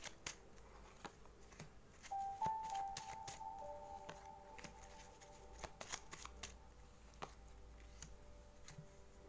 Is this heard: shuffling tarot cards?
yes